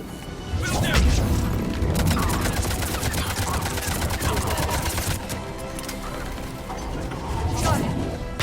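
Mass Effect combat gunfire crackles in dense volleys with crashes and mechanical clatter, loud and continuous, with voices calling out over the battle.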